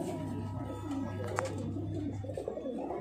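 Madrasi pigeons coo in a loft in Barrackpore, Kolkata, a low, steady murmur of cooing under a constant background hum, with faint scattered chirps.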